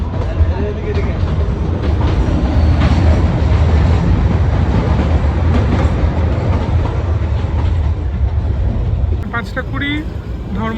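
A passenger train rolls through the dark toward Shimla in Himachal Pradesh, a steady loud rumble with rail clatter throughout and a brief higher squeal near the end, heard from on board.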